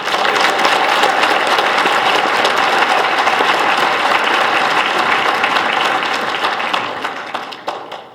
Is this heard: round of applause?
yes